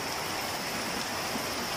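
Heavy rain falling outdoors over a yard scattered with wood and tin sheets, a dense, constant wash of close rain noise with no pauses.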